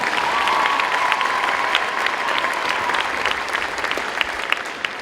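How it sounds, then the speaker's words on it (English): A crowd at a high school pep rally applauds the dance team with sustained, dense clapping that holds steady throughout and sounds fairly close and full. "Let's give them a big round of applause."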